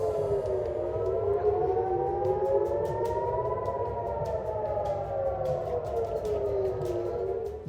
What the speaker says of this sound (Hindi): रात का वक्त है कि अचानक सायरन घनघना उठते हैं